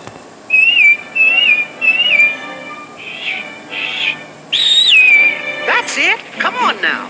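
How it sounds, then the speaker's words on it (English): Whistled tune in short melodic phrases, several rising and falling notes repeated, fairly close and clear, followed by a brief burst of other sounds at the end. "just whistle like this"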